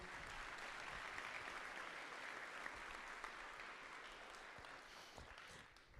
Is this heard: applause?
yes